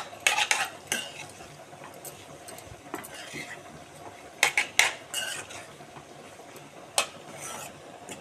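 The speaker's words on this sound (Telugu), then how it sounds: "ఇప్పుడు మనం బాగా కలుపుకుందాం." A spoon stirs and scrapes through potato curry seasoned with garlic chili powder in a pan, giving a few clustered scraping bursts with quieter pauses between them. No one speaks.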